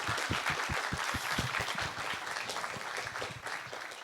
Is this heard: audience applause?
yes